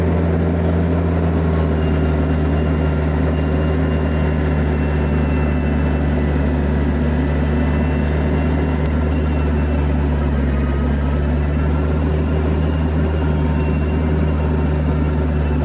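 An IronCraft tiller engine runs at throttle while tilling dirt, a loud, constant, droning engine roar with a deep steady hum that holds level from start to finish.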